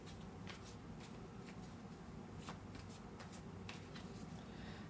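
Tarot cards shuffled by hand during a reading, a steady papery riffling and rustling with soft repeated flicks running throughout at close range, with no voices.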